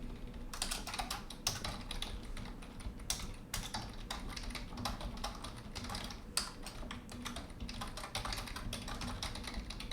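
Code is typed on a computer keyboard in a steady stream of rapid, fairly quiet key clicks with occasional louder taps, set over a constant low background hum.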